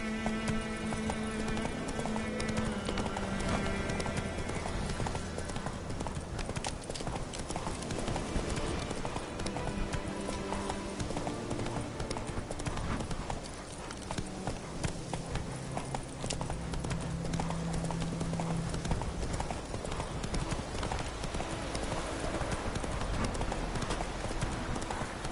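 Galloping hooves of Roach, a horse in a video game, pounding in a fast continuous rhythm for a long stretch, loud and close beneath a dense layer of music and game sound.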